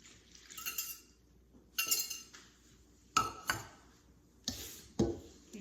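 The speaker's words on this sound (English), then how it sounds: "we're going to add 1 egg to this and whisk it together" An egg is whisked into a cooled mixture of water and butter in a bowl, giving bursts of clinking utensil strokes against the bowl in four separate rounds with short pauses between.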